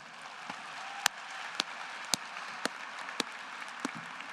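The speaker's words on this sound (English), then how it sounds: "Please join me in a round of applause for all of our speakers." Applause from the audience at a 2022 business school convocation, heard as a faint, steady wash of clapping with a handful of sharper, isolated claps standing out at roughly half-second intervals.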